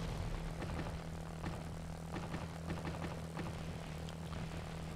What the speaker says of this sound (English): the sound for the propeller seems to be working